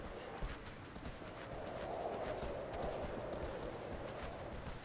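Horse hooves clip-clop steadily in Shadow of the Colossus, a faint, regular run of soft thuds over a windy outdoor hiss for about five seconds, with no talk.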